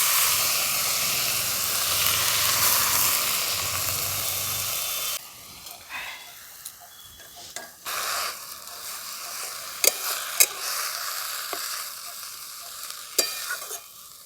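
Freshly cut jute leaves drop into a pan of lightly fried oil and hit with a loud, hissing sizzle for about five seconds, then settle into quieter frying broken by scraping stirs and a few sharp clacks of the spatula.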